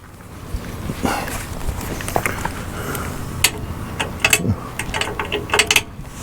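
A hand ratchet works a 1/2-inch bolt loose on an old jon boat, close and fairly loud, giving irregular bursts of quick metallic clicking with small clanks between strokes.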